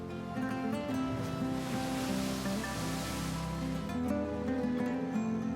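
Sea waves break against the rocky shoreline along a coastal road on Mallorca, Spain, giving a continuous, rushing wash of surf that stays steady and moderately loud, with no talking.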